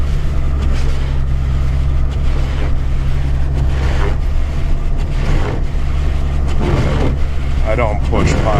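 A Ford Excursion with a Cummins diesel engine plowing snow: a loud, steady low engine drone runs throughout, with scraping and rumbling as snow is pushed, under occasional talk.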